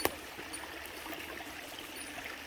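Small creek on a Garrett County forest trail, water trickling and babbling steadily over rocks, a close, continuous wash with no voices.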